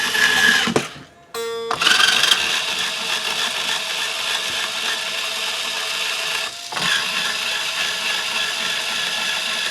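A Peg Pro motorized string winder spins to loosen the strings on a Gibson guitar, producing a sustained close whirring buzz with a brief pause near the start and another short dip later, loud and steady.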